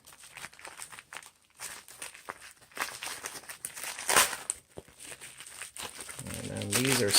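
Plastic packaging of Arduino electronics parts from AliExpress crinkles and tears as it is opened, with intermittent rustling and handling noises throughout, close and moderately loud.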